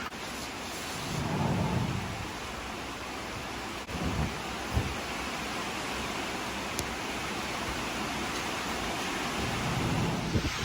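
A rainstorm rolls over a barn as a constant wash of rain, with low rumbles of thunder swelling near the start and end and a few sharp knocks in between.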